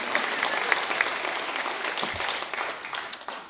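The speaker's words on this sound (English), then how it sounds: "Thank you, one clap." A television studio audience gives a short, fairly even burst of applause, many hands clapping together and fading slightly toward the end.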